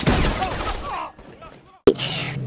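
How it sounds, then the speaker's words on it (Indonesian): Film dialogue runs for a second, then a short pause, then a sudden loud burst of firearm gunfire crackles sharply and close for the final half second. "Dor. Begitulah bunyi dari letupan senjata api"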